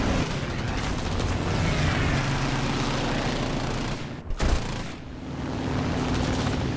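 Bombs dropped from a Pe-3 bomber in War Thunder detonate in a dense, sustained roar of blasts and rumble that dips briefly before swelling again, heavy and continuous.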